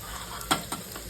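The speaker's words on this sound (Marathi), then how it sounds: "तापल्या तर त्यात लसूण घालायची। आता लसूण घातला, थोडा हिंग घालायचा" Crushed garlic and asafoetida fry in hot oil, giving a faint continuous sizzle with a couple of brief stirring scrapes.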